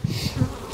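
Honey bees around hives at a vineyard apiary buzz in a steady, close drone, a continuous insect hum with a few louder swells.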